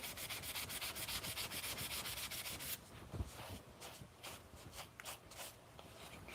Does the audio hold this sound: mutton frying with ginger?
no